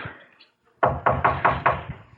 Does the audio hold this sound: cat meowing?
no